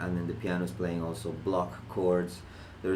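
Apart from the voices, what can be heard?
No everyday noises stand out.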